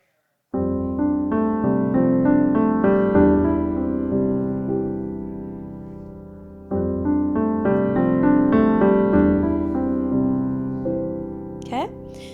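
Piano warmup exercise played quickly with the sustain pedal, rapid rising and falling note runs blurring into a resonant wash over two passes, close and fairly loud, with a faint squeak at the end.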